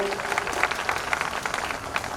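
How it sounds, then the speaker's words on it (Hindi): A crowd at a political rally in Prayagraj breaks into applause, a dense patter of clapping that stays fairly even and moderately loud for a couple of seconds. "जोरदार ताली बजा करके मनोज जी का स्वागत करिए"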